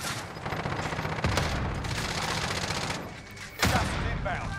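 Rapid gunfire and explosions from Call of Duty: Modern Warfare fill the clip with dense, loud overlapping shots and booms, with a heavier burst near the end.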